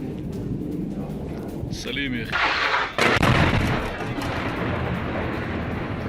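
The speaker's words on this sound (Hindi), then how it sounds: "इमारत में भीषण धमाका हुआ।" An Israeli strike on a building in Sidon, Lebanon sets off a heavy blast with rumbling booms and a sharp burst midway, loud against a continuous noisy background.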